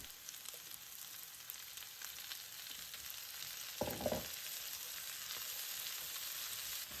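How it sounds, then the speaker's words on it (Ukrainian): A steady, quiet sizzle of peppers frying in a pan, with a brief scraping stir partway through. "Перець смажимо до тих пір, поки він не стане м'який."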